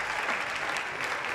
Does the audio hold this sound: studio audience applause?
yes